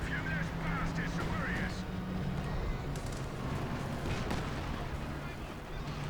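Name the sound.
artillery barrages in Company of Heroes 2 video game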